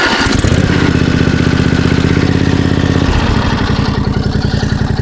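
An old Toro LX425 riding lawn tractor engine, started cold on choke, runs loud and close with a rapid, uneven putter that settles into a steady chugging idle.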